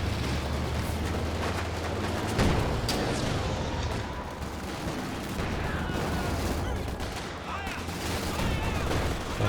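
Machine gun fire in the World War II strategy game Company of Heroes 2, buried in a dense, constant din of battle with shots and blasts layered throughout.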